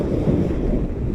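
Heavy, steady wind buffeting the microphone on a motorbike ride in northern Tenerife, a loud low roar throughout with no voices.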